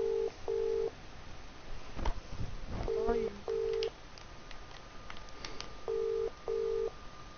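Keypad tones of a telephone being dialed in a Minecraft session, several short evenly spaced beeps in two bursts with a voice speaking in between.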